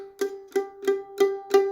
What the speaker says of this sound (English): And this is what pushing way too hard sounds like.